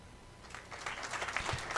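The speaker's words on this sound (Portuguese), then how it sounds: "Ele recebe os aplausos e está, portanto, empossado na condição de presidente da Petrobras, José Mauro Coelho" Applause rises at a Petrobras president's inauguration ceremony, starting quiet and swelling into a dense burst of clapping from the gathered audience.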